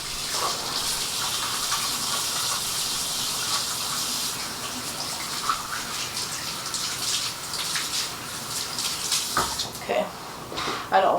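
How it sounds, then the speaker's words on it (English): Tap water runs steadily into a sink as hands are washed in a home kitchen during meal prep, a continuous hissing gush with brief splashes and clatter near the end, and someone speaks over it. "let me wash my hands real quick"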